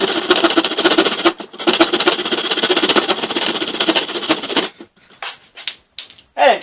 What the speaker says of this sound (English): to cut the angle cut, I'm going to use my little back saw.